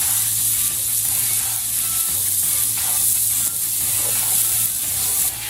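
A steak cooked to well-done sizzles loudly on a barbecue grill. The frying hiss is steady and close, with no talking over it.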